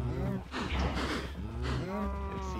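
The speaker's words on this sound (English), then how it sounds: "Let's feed all these cows." Cows mooing in Minecraft, several drawn-out, overlapping blocky moos from the farm animals, loud and close, with no talking.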